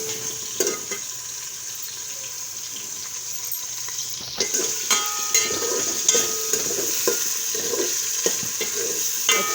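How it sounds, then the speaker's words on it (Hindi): Chicken and garlic fry in a pan for chicken macaroni, with a soft steady sizzle. Repeated scraping and clinking of a spoon stirring become busier in the second half. "उसके साथ थोड़ी सी इसकी बुनाई करेंगे।"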